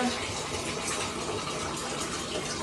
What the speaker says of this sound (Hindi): ग्रेवी के लिए थोड़ा पानी ऐड किया जाएगा।